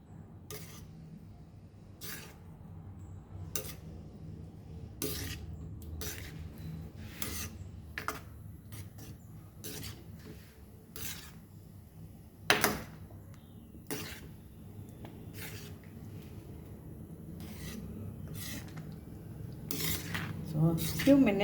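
A spoon stirs khichdi of moong dal and rice in a pot, making soft, regular clinks and scrapes against the metal roughly every second or two, fairly quiet and close, with no talking.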